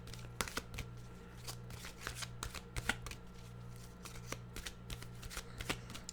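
Tarot cards being shuffled by hand, a quiet close series of crisp riffling flutters and soft slaps repeating in an uneven rhythm, with no talking.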